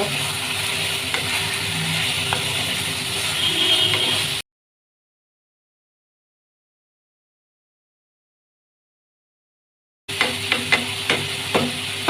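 Mutton keema with chopped tomato being stirred and sautéed in a pan, with a soft sizzle, scraping and a few knocks of the spoon, then a long silent gap before the stirring resumes with sharper clinks.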